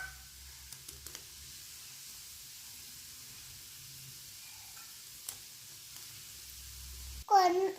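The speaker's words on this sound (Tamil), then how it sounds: "நம்ம குழம்பு கொதிக்குது." A pan of paneer and capsicum gravy simmers with a soft, steady bubbling hiss and occasional pops, ending in a brief loud burst near the end.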